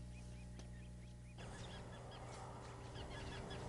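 Resident Canada geese at a wetland wildlife refuge, a flock honking repeatedly in overlapping calls after a brief quieter start, fairly near and lively.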